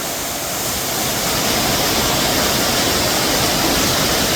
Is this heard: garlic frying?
no